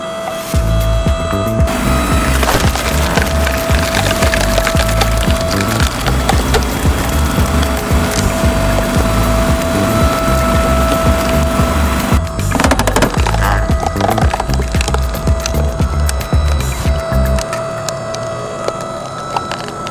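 An 8-ton log splitter works through thick firewood logs, a steady loud mechanical drone with a constant hum, creaking wood and ratcheting clanks throughout, easing off near the end.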